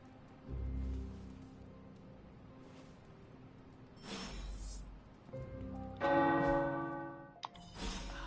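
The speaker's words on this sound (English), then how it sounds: "The tower bells are ringing." Heavy tower bells in the video game Midnight Suns ring out in separate, resonant strikes with long ringing tails, spaced unevenly over a quiet background.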